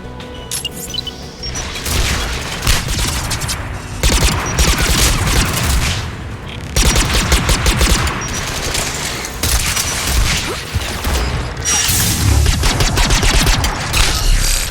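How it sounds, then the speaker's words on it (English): Anti-aircraft guns fire in Mass Effect 3 as loud, dense bursts of rapid gunfire with heavy booms, coming in waves with short lulls between them. "AA guns ahead of us."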